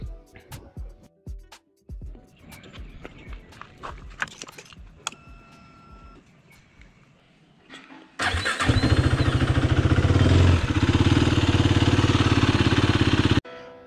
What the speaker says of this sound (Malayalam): അപ്പോൾ നമുക്ക് ഫസ്റ്റ് എഞ്ചിൻ ഒന്ന് ഹീറ്റ് ചെയ്യാം.